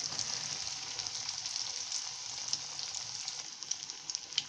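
Leftover idli pieces coated in oats fry in hot oil with a steady, dense sizzle and crackle, fairly quiet and continuous, with no voices.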